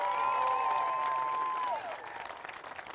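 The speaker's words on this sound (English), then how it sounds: "give them a big round of applause tonight" A crowd at a political victory speech applauds the campaign team, broad sustained clapping and cheering from a large room, with amplified speech ringing over the start before the applause carries on alone.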